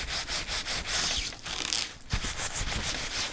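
Nuno felt rubbed firmly by hand in a steady back-and-forth rhythm, a close, dry scrubbing sound repeating in even strokes with a short pause midway.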